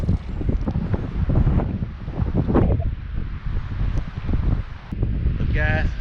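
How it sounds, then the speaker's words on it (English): Wind gusts across an open lake during a spring crappie fishing outing, a steady broadband rush and buffeting against the microphone, with water and boat noise beneath and a person talking over it. "It's pretty windy out here."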